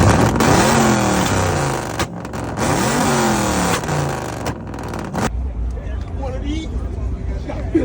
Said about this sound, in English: What sound your car make?